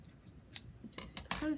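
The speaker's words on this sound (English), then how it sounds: "Now I am going to cut the top, because I do not need all of this" Scissors cutting off the top of a handmade snowman craft, a few sharp close snips, one early and a quicker pair near the end, with low soft background noise between.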